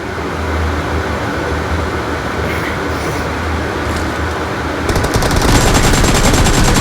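AK-47 and M4 automatic gunfire in PUBG Mobile: loud, rapid bursts of shots over continuous dense game noise, growing sharper and more rapid toward the end.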